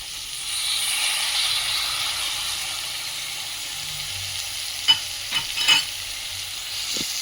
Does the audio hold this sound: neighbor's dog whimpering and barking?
no